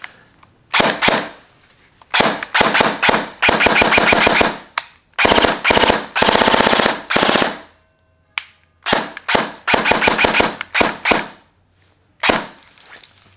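Bursts of rapid, muffled automatic fire from an airsoft MP7 submachine gun with a mock suppressor, several strings of shots separated by short pauses, close and fairly loud.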